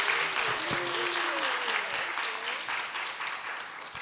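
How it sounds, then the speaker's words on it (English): An audience at a live talk event applauds, a steady wash of clapping that fades slightly toward the end, with voices briefly heard over it early on. "Can I get one more round of applause"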